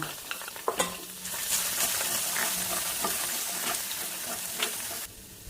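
Chicken wings and minced garlic sizzle in hot oil, a loud, steady frying hiss broken by a few sharp clatters of stirring and pan contact before the sizzle cuts off near the end.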